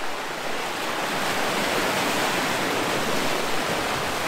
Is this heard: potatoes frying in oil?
no